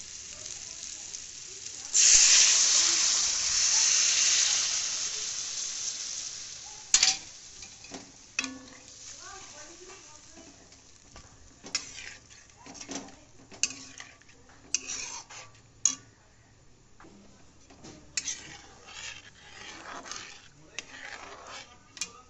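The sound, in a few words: broth poured into sizzling gravy and stirred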